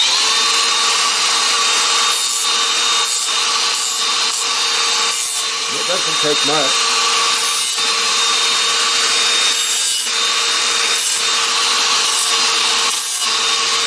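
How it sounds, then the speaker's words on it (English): An angle grinder fitted with a sanding disc cleaning up rough edges on solar panel legs, a loud continuous whine with steady grinding abrasion, with a voice speaking briefly over it. "Got a grinder here with a sanding disc. So I'm just going to clean up these edges."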